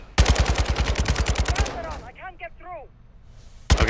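Rapid automatic gunfire in Call of Duty Modern Warfare 2, a loud burst of evenly spaced shots that stops abruptly, followed by brief chirping sounds, then another burst at the end.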